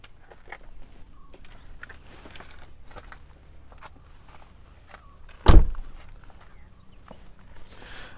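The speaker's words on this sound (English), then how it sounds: "and the fuel lid opener." Fuel lid opener on a 2006 Tata Safari releasing the lid, a single sharp clunk from inside the cabin amid quiet background rustling.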